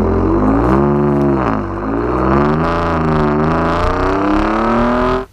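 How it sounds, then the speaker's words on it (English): A 2021 Ford Raptor pickup revving its exhaust, a loud close droning engine note that dips briefly then climbs and holds steady before cutting off abruptly at the end. "The problem is the sound that comes out of those tailpipes is not, well, it's less than desirable."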